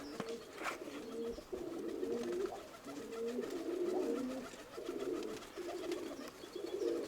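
A dove coos repeatedly in soft, rolling low phrases, close by, with faint rustling in the background.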